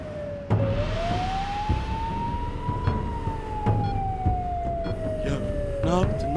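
A wailing ambulance siren rises and falls in one long sweep, loud and close, with scattered thumps and background voices underneath.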